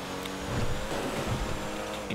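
Car engine driving in Grand Theft Auto V, a steady mid-level rumble that swells slightly midway and holds through, with no talk over it.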